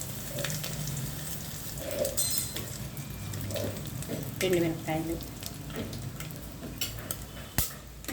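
Dried red chillies fry in hot oil as a tempering alongside fenugreek and seasoning seeds, a moderate sizzle with occasional stirring clinks and pan knocks, a voice speaking faintly at times.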